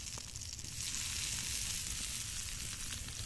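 A piece of brinjal goes into hot oil, and the sizzle swells into a loud, steady hiss that holds close up for the rest of the moment.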